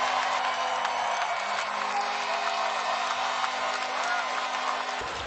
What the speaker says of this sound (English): You can hear Evgeny Malkin yelling and cheering before the crowd erupts.